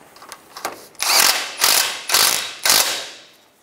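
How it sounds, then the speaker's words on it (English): A hand ratchet snugs the nut on a ball joint of a 2012-2016 Subaru Impreza front steering knuckle: a few light clicks, then four loud, evenly spaced bursts of rapid ratcheting up close. "I'm going to snug up the nut on the ball joint."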